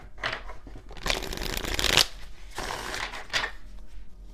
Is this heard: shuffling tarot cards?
yes